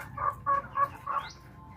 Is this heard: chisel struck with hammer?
no